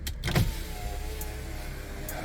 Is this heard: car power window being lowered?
yes